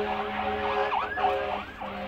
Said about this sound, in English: got an ambulance here.